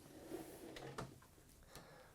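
A large RV kitchen drawer in a 2018 Thor Tuscany 40RT diesel Class A motorhome opens and closes, with a few soft sliding thuds and a light knock heard close by at low volume.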